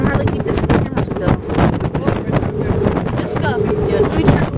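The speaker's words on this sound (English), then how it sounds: "It's windy." Strong wind buffets the microphone in constant gusty rumbles on a cruise, with people talking underneath.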